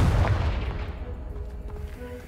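A Confringo blasting curse explodes in Hogwarts Legacy, striking a pile of debris blocking a stairwell: a loud, deep boom at the onset that decays into a rumbling tail, with no talk over it.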